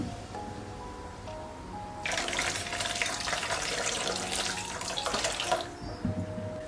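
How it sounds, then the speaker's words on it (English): Boiling water is poured over apples into a bowl, a bright splashing gush that starts suddenly and runs for a few seconds before tapering off, close by, with a low background hum before and after. "So we're going to pour boiling water over them and just take off any of the wax."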